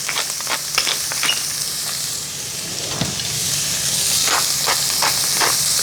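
Carrot, onion and garlic fry in a pan over medium-low heat, giving a steady sizzle and hiss with occasional stirring clicks and scrapes.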